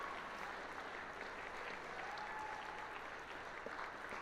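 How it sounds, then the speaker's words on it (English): Steady, even applause from an audience at an FTC robotics qualifier event in the Finger Lakes, New York, honoring the winning alliance, a continuous wash of clapping at moderate distance with no voices standing out. "another huge round of applause for our winning alliance"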